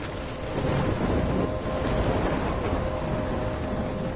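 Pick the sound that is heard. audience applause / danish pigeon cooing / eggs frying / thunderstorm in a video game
thunderstorm in a video game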